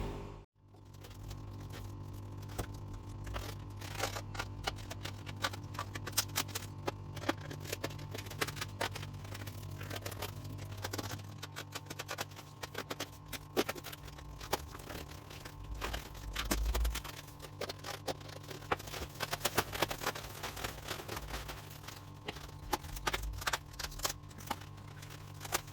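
Parcels from a car forum are unwrapped by hand, a long run of rustling, tearing and crinkling packaging with irregular crunches, close and fairly quiet.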